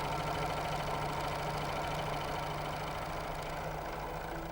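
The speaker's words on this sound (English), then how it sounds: "Continue sewing." A Janome 634D overlocker sews fabric at steady speed, its motor giving a close, continuous whirring drone with a fast mechanical chatter and no pauses or talk.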